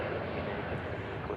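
An Alaska Airlines jet at Nashville International Airport gives off a steady, loud, broadband engine roar that holds constant and close throughout, with no voices over it.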